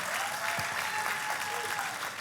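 A church congregation applauds during a worship service, a dense, steady wash of clapping that holds at an even level throughout, with a faint sustained tone, likely music, beneath it.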